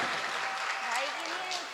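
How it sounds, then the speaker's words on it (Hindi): An audience at a mushaira poetry event in Bijnor claps briefly. The brisk applause runs under a speaking voice and tapers off near the end. "तालियां बजा दीजिए"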